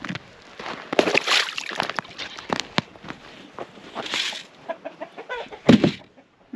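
Chickens cluck and squawk close by in bursts, with scattered sharp knocks and scuffles in between.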